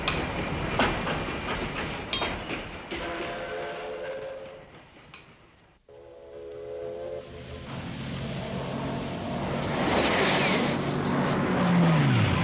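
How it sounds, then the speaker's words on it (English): Freight cars being shunted by switch engines in the Seoul railroad yards, with clanking couplers, rolling wheel rumble and squeal, and short whistle-like tones, fairly close and continuous with a brief lull midway. "Freight cars loaded with goods are being shunted across the tracks by switch engines"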